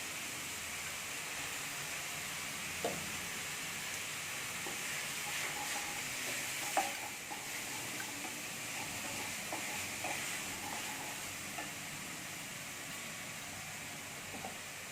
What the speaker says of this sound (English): the keema is nicely getting fried along with onion